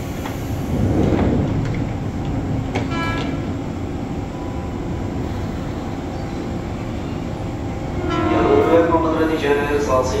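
A commuter train pulls out of Universitas Indonesia station, its rolling rumble running under station noise and a platform announcement, with tonal whines and a brief horn-like sound near the end.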